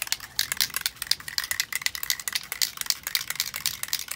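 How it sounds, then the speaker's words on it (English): A can of mirror-effect spray paint is shaken hard outdoors, its mixing ball rattling in a rapid, steady, close series of clicks that runs throughout with no talking. "We're showing you how to shake the paint."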